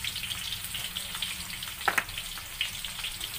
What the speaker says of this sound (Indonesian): Okey, kita goreng bawang kita. Bawang besar kita ya, bawang merah kita ya.